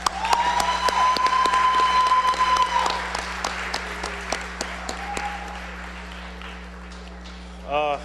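Audience applause at a 2015 NCAA signing day at Friendship Collegiate Academy, steady clapping from a crowd for several seconds that gradually thins out, with a short burst of claps near the end and a faint steady hum underneath.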